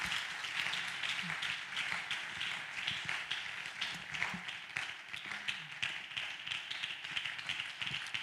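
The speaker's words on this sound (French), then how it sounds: "Applaudissez pour le Seigneur." Church congregation claps for the Lord during a bilingual worship service, a steady continuous patter of many hands at moderate distance, fairly quiet and even throughout with no speech over it.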